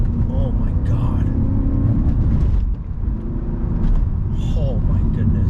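A BMW M3 with a V8 engine revs to around 4,000 RPM, its induction roar loud and close and swelling then easing, with excited voices in the car at times.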